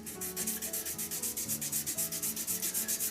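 Sandpaper works a resin-and-wood shaving brush handle as it spins on a lathe. The rasping strokes are quick and rhythmic, about six a second, and they sound close, loud and even, with no talking over them.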